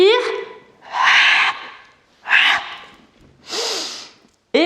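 Forceful exhaling breaths during a Pilates exercise, four loud, breathy puffs spaced about a second apart, close to the microphone, with a soft voice faintly between them.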